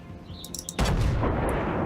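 Battleship main guns firing in World of Warships, a single heavy, booming salvo that bursts in loudly and then rumbles on, with faint chirps just before it.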